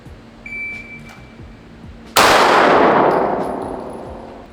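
A pistol fires a single loud shot at a range with a shot timer, preceded by a thin electronic beep and followed by a long metallic ring that decays over about two seconds.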